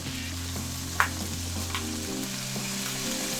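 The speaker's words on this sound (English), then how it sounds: "So now the steaks have been on the pan for 2 minutes." Sirloin steaks sear in a hot pan with a steady, close sizzle and crackle, a brief sharp click near the start, and no talking.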